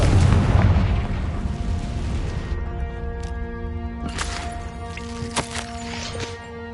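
A blasting fire spell explodes in a video game: a loud, low boom at the start that fades into a ringing, tonal magical shimmer with a few bright accents.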